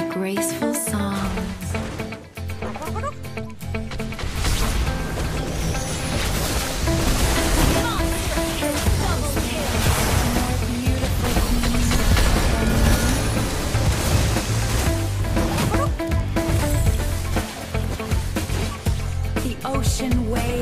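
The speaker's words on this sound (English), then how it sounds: "Ocean waves are so soothing." Ocean waves crash and surge steadily in the Mobile Legends game, a loud continuous wash of surf layered under game sound effects and a voice speaking throughout.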